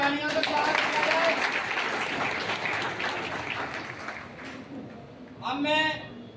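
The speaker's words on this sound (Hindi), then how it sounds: "जोरदार तालियों से स्वागत किया जाए।" A large crowd claps loudly and steadily at an Azad Samaj Party (Kanshi Ram) political gathering. The dense applause fades slightly before a voice briefly speaks near the end.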